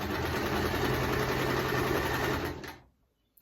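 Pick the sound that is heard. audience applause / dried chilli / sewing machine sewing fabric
sewing machine sewing fabric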